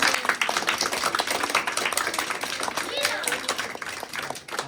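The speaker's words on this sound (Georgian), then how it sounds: "ეხლა ტაში დაუკარით" A group claps continuously on a street in old Tbilisi, dense close applause that fills the whole stretch, with voices mixed in beneath.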